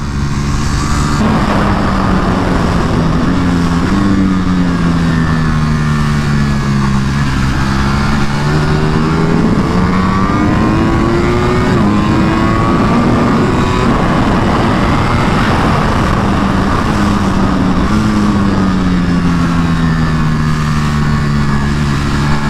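A Ducati Panigale V4 R races around a track at an Aprilia track day, its engine loud and close with rising and falling pitch through gear changes and sustained high revs, with no talking.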